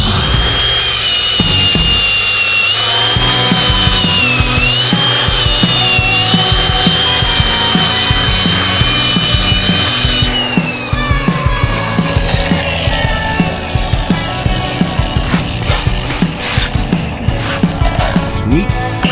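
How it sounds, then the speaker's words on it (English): A power tool grinds down a spot by a garage door during installation of a water-stopping threshold, a loud continuous whine with shifting pitch and steady rough grinding throughout, close up with no talk. "we're going to grind that down"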